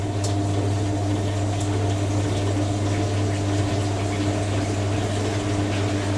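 Drain pump of a vintage 1980s Hoover A3060 Electronic 1100 washing machine pumping out water during a bedding wash, a steady continuous churning hum with watery gurgle at an even level throughout.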